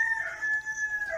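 A rooster crows among its chickens: one drawn-out, fairly close crow, clear and sustained above a quiet background, with no talking.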